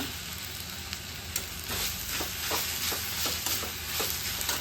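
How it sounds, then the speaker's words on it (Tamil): Avaram (tanner's cassia) flowers sautéing in a hot pan for chutney, giving a steady close sizzle with soft scraping stirs throughout. "இதையும் போட்டு வதக்கிக்கலாங்க"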